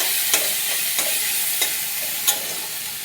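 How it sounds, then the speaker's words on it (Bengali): Small morola fish sizzle steadily in hot oil in a home kitchen, a continuous bright frying hiss punctuated by four soft, regularly spaced stirring scrapes, close and without talk. "ভালো করে তেলে ভাজা ভাজা করে নেবো এগুলো।"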